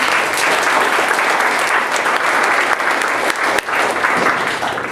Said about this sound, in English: maybe a big round of applause for them